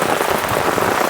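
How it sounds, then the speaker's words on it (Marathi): Heavy torrential rain pours down on farm fields in the Konkan region during flooding, a dense, loud, unbroken hiss of drops close around. "जाम तुफान पाऊस आहे कोकणात."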